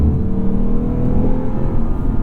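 A 2023 Lexus RC F's V8 engine pulls hard under acceleration, a dense, loud, rumbling growl heard from inside the car, steady without a break, with no talking.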